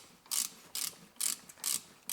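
Ratchet turning out a caliper bolt during front brake pad replacement on a 2004–2011 BMW 1 Series, five short bursts of clicking strokes in a steady rhythm, close and crisp.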